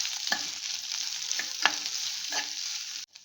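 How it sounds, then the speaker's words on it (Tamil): Onions and curry leaves sizzle steadily in a hot pan, with a few spatula stirs and scrapes breaking through the frying hiss. The sound cuts off abruptly near the end. "வெங்காயம் இது வந்து கருவேப்பிலை போட்டுட்டு நல்லா வதக்கிக்கலாம்"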